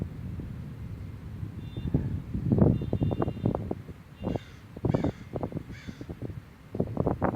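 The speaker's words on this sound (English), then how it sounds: "there's a crow over there, very upset about something" An agitated crow caws repeatedly outdoors, several harsh calls in uneven bursts at moderate distance, over steady wind noise buffeting the microphone.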